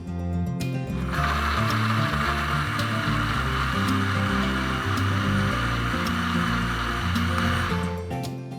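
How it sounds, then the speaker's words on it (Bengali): An electric blender whirs loudly and steadily for about seven seconds, blending orange chiller sharbat ingredients with lemon juice, starting and stopping cleanly over background music. "এখন সবগুলো উপকরণ একসাথে ব্লেন্ড করে নিতে হবে।"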